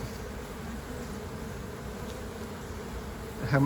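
A queenless honeybee colony in a city-farm hive hums with a continuous, even buzz close by, ending in a brief louder burst as something shifts near the hive.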